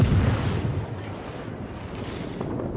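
Naval gunfire from the World of Warships game thunders as a heavy, booming blast at the start, followed by a rumbling, decaying roar of battle noise that stays fairly loud throughout.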